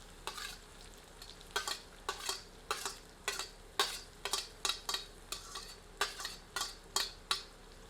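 Food frying over medium heat in a pan, with repeated sharp stirring scrapes and clinks of a utensil against the pan in a steady rhythm over a soft sizzle, close and moderately loud.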